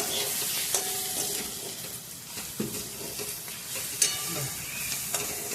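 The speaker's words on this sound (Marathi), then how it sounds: "कांदा भाजताना थोडंसं मीठ टाकलं ना तर मग कांदा चांगला भाजते" Onion fries in a pan with a pinch of salt and homemade black masala for egg bhurji, producing a steady, close sizzling hiss with occasional stirring knocks and pops throughout, and no one speaks.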